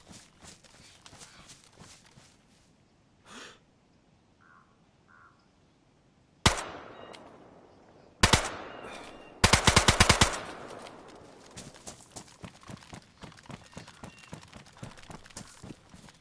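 Silenced guns firing in a video game: scattered soft thumps and clicks, then a sharp burst, another shot and a rapid volley of suppressed shots, followed by a string of quieter rhythmic taps.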